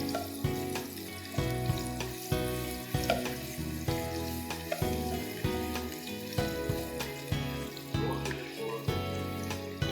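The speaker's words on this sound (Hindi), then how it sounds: "ज़रा सा हम इसको सौटे करेंगे।" Garlic and sliced ginger sautéing in a pan, a steady crackling sizzle with scraping and clinking strokes of a utensil repeating throughout, loud and close.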